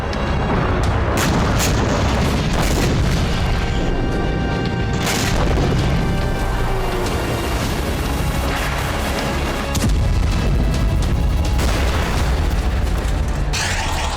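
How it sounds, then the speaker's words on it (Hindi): Bombardment explosions in Gaza: a continuous barrage of booms and blasts, some sharp and close, others rumbling and distant, overlapping with no pauses and no voices. "इजराइल ने पहले गाजा पर भीषण बमबारी की।"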